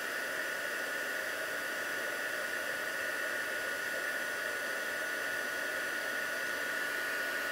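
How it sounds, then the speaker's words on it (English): A Stampin' Up heat gun blows hot air over copper embossing powder, making a steady, fairly quiet hiss and whine that carries on unchanged with no talk. "So this is the Stampin' Up heat gun."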